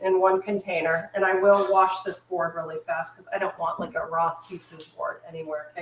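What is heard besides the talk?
No everyday noises stand out.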